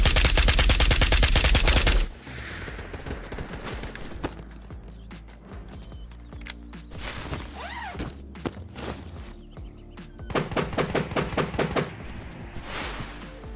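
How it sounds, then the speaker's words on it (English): Gunfire in an online shooter during an island raid: several bursts of rapid shots, a loud dense volley at the start, then scattered shots and footsteps, with another clustered burst near the end. "I heard gunshots over here."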